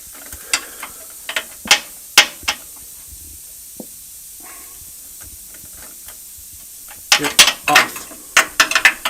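A ratchet wrench tightens the nut on a Rancho shock absorber fitted to a Toyota 4Runner, giving short bursts of close, crisp clicking in several spaced runs, with a denser flurry of clicks near the end.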